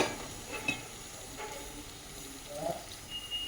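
Okra frying in a pan with a little water just added, giving a soft, steady sizzle and hiss with faint stirring clicks throughout, fairly quiet and close.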